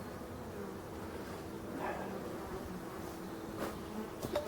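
Asian hornets buzz around beehives: a steady, faint insect drone runs throughout at moderate distance, with a few brief louder passes near the end and no talking.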